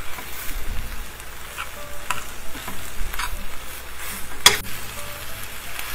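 Smoked BBQ burrito filling with seasoning mix sizzling and frying steadily in a pan as it heats through, a continuous close crackle with a brief sharp clink partway.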